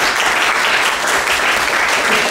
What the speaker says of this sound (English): can we get a round of applause for the patients who brought the guests?